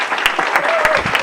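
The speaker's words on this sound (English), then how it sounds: "So please, Musician, come and get the award and get the applause that you didn't get last summer." Audience applause for an award winner at a tech awards event, brisk clapping with sharp individual claps standing out over a continuous background.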